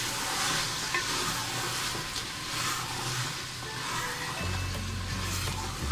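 Methi chicken for a creamy malai dish sizzles in a frying pan as it is stirred and mixed, a close, continuous frying hiss with occasional soft scraping of the spoon.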